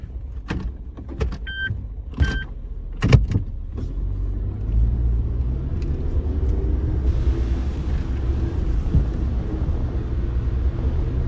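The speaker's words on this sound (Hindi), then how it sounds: "4x4 लगा लेते हैं अपनी गाड़ी को।" Car climbing a hillside slope in four-wheel drive in Pakistan, starting with several sharp knocks and clunks, then a steady engine rumble that rises and strains, fairly close and without talk.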